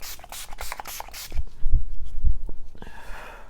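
Several quick hissing bursts of Urban Decay All Nighter makeup setting spray misted close up toward the face, the short spritzes coming in a brief rapid series, followed by a softer stretch of breathy handling noise.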